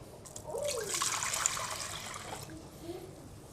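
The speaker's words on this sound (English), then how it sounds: "We're gonna pour that into our pot." Vinegar pours into a pot for pickling quail eggs, a steady close splashing and trickling pour lasting a couple of seconds before tapering off.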